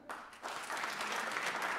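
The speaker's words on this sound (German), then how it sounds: "Einmal klatschen, bitte." An audience at a live comedy show in a lecture hall claps together in a short burst of applause, a dense wash of hands rising quickly and holding steady.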